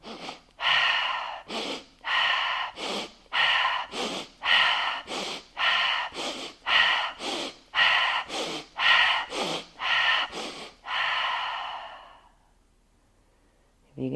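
Yoga breathing practice: a rapid series of about fifteen sharp, audible breath bursts in a steady rhythm, short inhales alternating with forceful mouth exhales, close and loud, then a pause into near silence.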